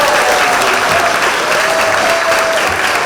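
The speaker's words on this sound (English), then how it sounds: "let's give a very big round of applause to Avi McCracken for putting this together." Audience applause at a spring fundraising luncheon for the Kentucky Derby, a dense, steady roar of many hands clapping close by, loud throughout without a break.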